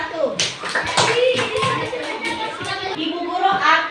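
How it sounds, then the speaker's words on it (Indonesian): A class of schoolchildren claps together in a classroom lesson, a dense burst of hand claps lasting a few seconds with children's voices mixed in. "tepuk tangan dulu untuk kelompok 1"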